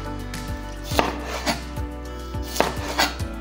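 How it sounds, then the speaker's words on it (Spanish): A knife cutting onion and bell peppers into strips on a board, about six distinct chops at an uneven pace, close and crisp, with no voices. "tratar de que el mismo corte sea del mismo grosor, tanto la cebolla como nuestros pimientos"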